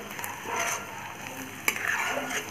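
Chopped carrots fry in a pan while being stirred, giving a steady soft sizzle with light scraping of the utensil and one sharp clink near the end, heard close and without talk.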